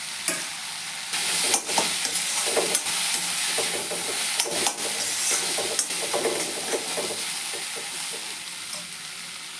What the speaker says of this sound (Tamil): இந்தளவு வதங்கினோன்னா நம்ம மீனை போட்டுக்கலாங்க.